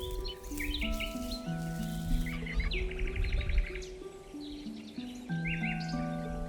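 Prairie dog warning chirps ring out in a wild North American colony, short sharp calls repeating over a steady layered tonal background, moderately loud and without talk.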